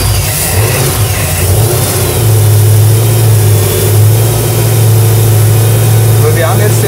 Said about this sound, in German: der Motor läuft jetzt nur so, als wenn er im Leerlauf stehen würde